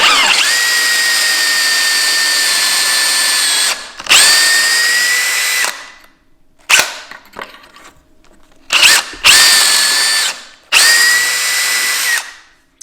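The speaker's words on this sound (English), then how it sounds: "we're going to go ahead and drill a couple of these real quick" A power drill whines loudly in several bursts, drilling pocket holes in redwood with a pocket-hole jig, each run lasting a second or two with short pauses between, close and alone.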